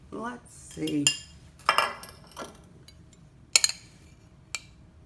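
A metal teaspoon clinks and taps against a container several times while detergent is measured out, giving sharp, close, irregular chinks with short gaps and no talking.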